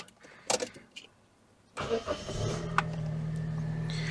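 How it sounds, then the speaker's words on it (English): A Daihatsu YRV Turbo 130 engine cranks briefly and catches, settling into a steady, close idle hum after a few faint clicks and interior knocks. "But we better take this Bow 130 for a drive."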